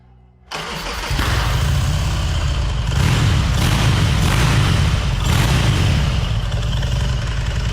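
Custom motorcycle engine cranking and firing up after a short quiet moment, catching quickly into a loud, rough, steady idle that carries on with a couple of blips.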